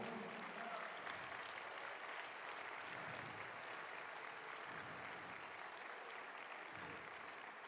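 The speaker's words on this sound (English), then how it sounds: "Would you give him a big round of applause?" An audience applauds for a foundation's executive director at an event: a dense, steady wash of many clapping hands, fairly distant and sustained with no talk over it.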